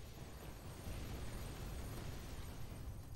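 Enemies in a Might and Magic video game explode on death with a continuous, deep, rumbling boom, loud and sustained throughout with no voices.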